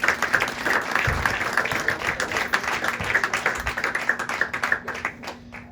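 Congregation applause at a Pentecostal church service, a sustained wash of many hands clapping at moderate distance that trails off at the end, with a low hum underneath.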